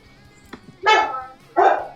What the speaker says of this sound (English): Oh, there's Doggo in the background.